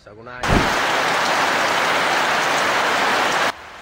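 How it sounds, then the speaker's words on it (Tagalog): Heavy rain pours down on towns in Cotabato, a loud, dense, steady hiss of downpour that starts abruptly and cuts off sharply after about three seconds. "Bumuhos din ang malakas na ulan sa ilang bayan ng Cotabato."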